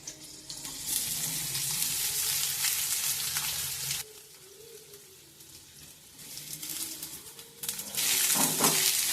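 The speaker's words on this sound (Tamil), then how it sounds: "வெங்காயத்தை நல்லா வதக்கி எடுத்துக்கலாம்" Chopped onions sizzle and crackle steadily in a hot pan, with a short quieter stretch before the frying swells loud again.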